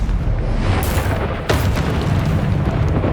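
Confringo blasting spells from Hogwarts Legacy explode in a loud, sustained booming roar, with a sharp crack about halfway through as a second blast lands, and no talking.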